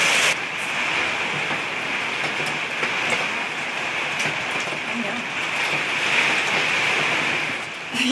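Heavy rain pours down steadily, a loud continuous hiss with no pauses.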